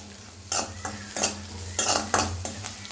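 Green chillies being sautéed in a pan for a spicy tamarind thokku, with a soft sizzle under repeated scraping strokes of a spoon against the pan, close and steady, with no speech.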